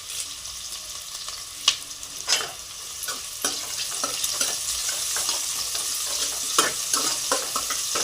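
Sliced onions with green chilies and curry leaves fry in hot oil for chicken biryani, a steady close sizzle broken by scraping spoon strokes as they are stirred.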